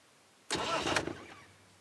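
A car engine cranks and catches after a failed ignition switch is bypassed by hot-wiring, giving a loud burst of about half a second that fades into a quieter idle.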